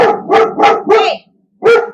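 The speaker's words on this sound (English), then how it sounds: "Sorry about the barking there." A dog barks loudly and close by, four quick barks in a row, then a short silence before a fifth bark.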